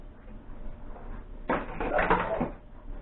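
Frozen peppers and cauliflower rice dropped from a bag into a pan, a sudden rustling, crackling pour lasting about a second after quiet kitchen background.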